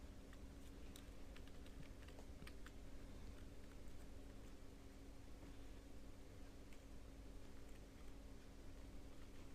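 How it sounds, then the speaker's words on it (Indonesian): Keyboard shortcuts tapped on a computer keyboard while editing a photo in Photoshop: a faint, irregular patter of key clicks, close up and quiet over a low hiss, with no talking. "tekan Ctrl A, tekan Ctrl C, tekan Ctrl W, lalu tekan Ctrl V"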